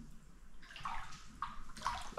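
Floodwater about a foot deep covering a ground floor during the Chiang Mai floods of 2024, sloshing and splashing faintly in a few soft, watery surges against a quiet indoor background.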